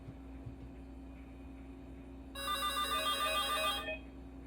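Office phone system ringing for an inside call, one electronic ring burst of about a second and a half over a low steady hum, fairly quiet and close.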